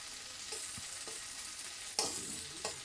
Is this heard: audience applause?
no